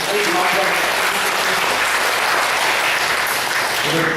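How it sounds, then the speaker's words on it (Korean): A church congregation claps together, a dense sustained burst of applause filling the room at full volume for several seconds, with faint voices mixed in. "하나님께 영광의 박수 돌립니다"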